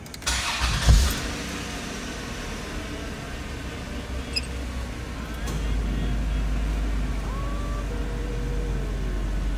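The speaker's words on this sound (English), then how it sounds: "Let me start the car." A car engine cranks and fires with a brief burst near the start, then a low, steady idle rumble settles in and continues to the end, with faint squeaks and clicks nearby.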